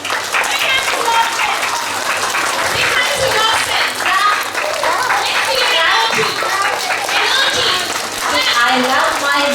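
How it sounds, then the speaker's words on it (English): Children at a school assembly clap together in sustained, dense applause, with voices mixed in over the clapping throughout. "children, give a big clap for yourself."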